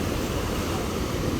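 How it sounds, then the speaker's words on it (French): Ocean waves surge and break on a surf beach where surfers ride, a steady, loud broadband wash of water with some wind noise and no clear separate crashes. "Ah, les vagues là-bas, elles sont belles aussi."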